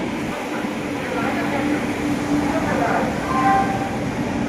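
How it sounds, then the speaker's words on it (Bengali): Ananya Express train pulling into platform 4 at a station, a steady low rumble of rolling wagons with faint clatter and a brief higher squeal, surrounded by platform crowd murmur. "3:52 থেকে 13 মিনিট লেটে 4 নম্বর প্ল্যাটফর্মে ঢুকছে অনন্যা এক্সপ্রেস।"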